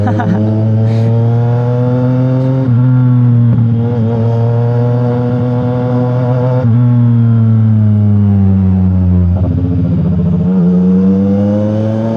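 A CFMoto 675 NK motorcycle engine with a full system exhaust drones loudly and steadily at a fairly constant speed, a smooth throbbing hum with slight shifts in pitch, heard close from the rider's position.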